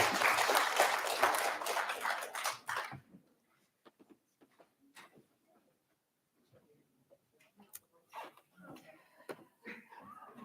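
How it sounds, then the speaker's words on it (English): Audience applause at a church district gathering, steady clapping from a crowd that stops abruptly after about three seconds, followed by quiet room noise with scattered small knocks and rustles. "Let's give Dr. Christina another round of applause."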